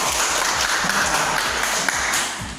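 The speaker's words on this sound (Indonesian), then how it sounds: "Ya, tepuk tangan bagi kelompok 1." A classroom audience gives steady applause for a presenting student group, a dense wash of clapping that fills the whole moment and fades slightly at the end.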